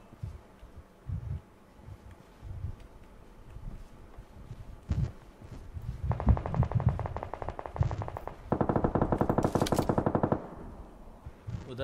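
Rapid bursts of automatic gunfire in the video game PUBG Lite rattle in long sustained volleys, preceded by scattered single shots and thumps, with faint voices underneath.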